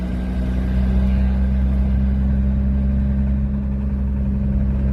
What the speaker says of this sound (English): I'm in the highest gear possible, so I can be at the lowest RPM, so I can like save my engine as much as possible